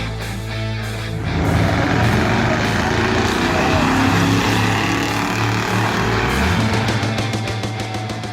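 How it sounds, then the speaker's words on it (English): A 1964 Mercury Breezeway roars down a drag strip while racing another car, its loud engine droning steadily and rising in pitch, with a brief drop and shift near the end. "That is his 1964 Mercury Breezeway at the drag strip, racing his buddy"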